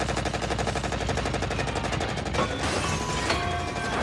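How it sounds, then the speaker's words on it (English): The giant robot Bracer Phoenix from Pacific Rim Uprising fires its chest cannons, a dense, rapid, continuous stream of heavy mechanical shots with booming impacts rolling in partway through. "Bracer Phoenix helps out by firing its chest cannons at Strike Thorn and later at Hakuja"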